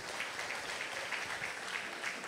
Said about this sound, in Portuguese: Vem cá, Luiz, vamos dar uma salva de palmas ao Senhor